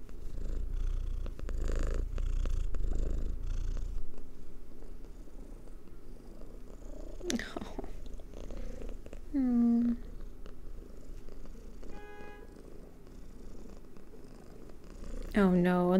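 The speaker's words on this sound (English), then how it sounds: "I have lots of time to pet my cat." A house cat purrs steadily while being petted, a soft close rumbling drone for the first few seconds, followed by quieter stretches with a few brief sharp tonal sounds.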